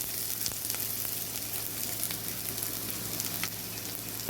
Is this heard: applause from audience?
no